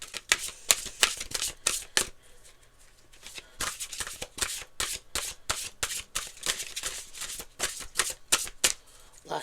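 Tarot cards are shuffled by hand in a close, crisp series of rapid riffling bursts and flicks, repeating irregularly across the whole stretch, with no voices over them.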